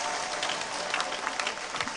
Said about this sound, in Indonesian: Tepuk tangan di situ.